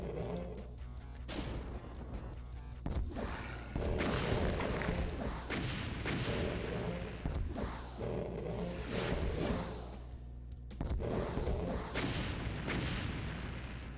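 Enemy gunfire and heavy booming blasts in the 1993 game Doom, loud repeated bursts layered over rumbling roars and a constant low drone, with several distinct shots punctuating the din and no voices.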